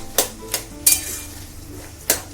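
A metal spoon stirs poppy seed paste into ridge gourd and potatoes in a pan, giving four sharp, close clinks against the pan at uneven intervals over a low background hiss.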